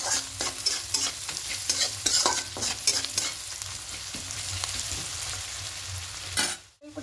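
Onions frying in a pan with salt for an egg and poppy-seed dish, a steady sizzle broken by repeated scraping stirs of the spatula, close and fairly loud with no talking.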